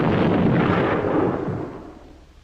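A single loud cannon shot in a reenactment of the 1655 siege of New Sweden, a heavy booming blast that rolls and fades over about two seconds.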